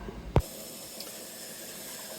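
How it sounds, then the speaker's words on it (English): Hot water runs from a tap into a sink in a workshop, a steady hiss that continues throughout after a brief knock near the start. "a little bit of hot water"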